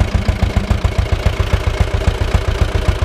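Ursus C-325 or C-360 tractor engine idling close by, a steady loud low thumping chug with an even rapid firing rhythm and light clatter, no voices.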